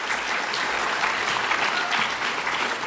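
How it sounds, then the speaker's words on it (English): Crowd applauding at a Veterans Day ceremony, a dense, steady clatter of many hands filling the whole stretch with no talk over it. "So give yourself a round of applause for that."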